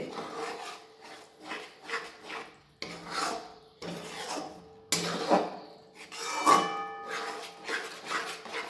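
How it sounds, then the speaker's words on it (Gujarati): A peanut and jaggery sukhdi mixture is stirred in a pan over low heat, giving a steady rasping scrape. The strokes are repeated in an even rhythm, close and moderately loud, with no talking. "આને થોડી વાર માટે આવી રીતે આપણે ધીમા તાપે હલાવીશું"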